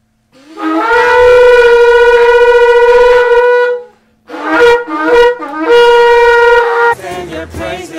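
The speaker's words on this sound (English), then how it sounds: "commanded the sound of the shofars" Shofars are blown at a Sabbath service: a loud, long, steady horn blast, a brief pause, then a series of shorter wavering blasts that end in ragged, broken notes.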